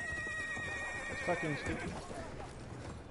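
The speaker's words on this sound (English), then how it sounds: "I hear a horse." Horse whinnying and hoofbeats in Battlefield 1 on the Sinai Desert map, heard amid game noise while someone talks.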